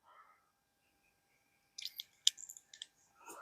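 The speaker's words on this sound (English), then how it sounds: "the crunchy and the grindy that's going on here from the lead and the powder" Spent lead and powder residue crunches and grinds inside a Dead Air Mask silencer as its baffles are stacked and handled, a cluster of small close scraping clicks after a quiet start, fairly faint.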